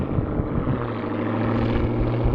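A loud car with a deep, droning exhaust drives along the road close by, its engine note steady and rising slightly as it passes.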